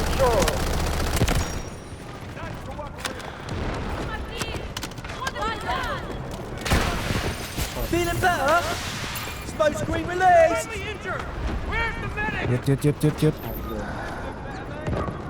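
P90 gunfire in the video game Delta Force, with loud bursts of rapid shots including a quick string near the end, heard under and between a voice talking excitedly.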